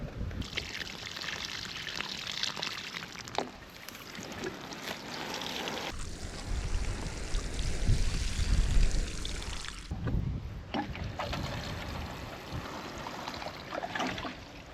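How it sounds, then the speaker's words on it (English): Water pouring onto soil around a watermelon seedling, a soft trickling splash that swells and fades in uneven stretches, faint and close, with no talk. "I'll water here. Just wait a little bit for it to soak in."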